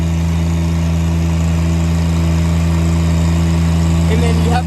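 Engine of a Haulotte 55XA boom lift running steadily at high idle, a loud, close and constant drone that holds even throughout.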